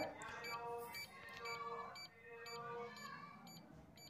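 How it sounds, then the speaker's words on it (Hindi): A Lifelong 8.6-litre digital LED home safe sounds its buzzer alarm: steady, repeating electronic beeps pulse throughout while someone talks over them. "ये स्टार्ट हो जाएगा बजर इसका अलार्म स्टार्ट हो जाएगा"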